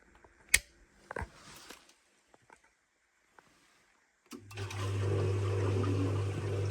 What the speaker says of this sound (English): I'm going to put this boiler into venting mode so I can get it to vent all the water out